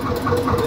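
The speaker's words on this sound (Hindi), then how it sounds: "ये तो अलग ही चाबी लगाते स्टार्ट होगा जी एकदम से" A tractor's diesel engine, started with a key, runs with a steady low rumble and a faint rhythmic knocking, close by and fairly loud, with no voices.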